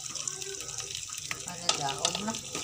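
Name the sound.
a little water added to frying bihon noodles, sizzling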